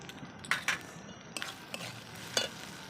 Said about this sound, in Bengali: একটু সামান্য জল দিয়ে কষিয়ে নেব।